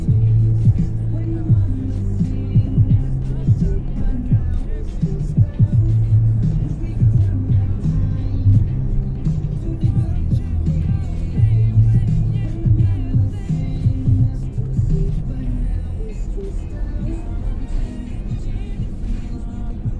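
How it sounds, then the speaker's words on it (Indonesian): Honda Brio E manual from 2019 climbing a hill in third gear, a steady low engine drone and road rumble heard from inside the cabin, with no talk over it. "Coba tanjakan Brio, posisi gigi 3"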